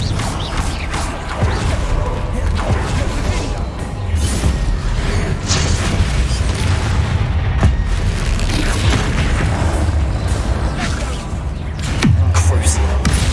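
Fire spell explosions in Hogwarts Legacy: a loud, dense barrage of booming blasts, crackles and mechanical rumbles that pours on continuously for over thirteen seconds, with a heavier low thump near the end.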